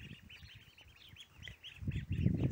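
Ducklings out in the sun near a muddy patch, giving repeated soft peeping calls in a steady stream, with a louder burst of rustling and low noise toward the end.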